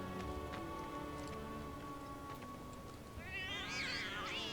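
Kittens in the Final Fantasy VII Remake video game give a couple of wavering meows over a steady layer of rain and background game music.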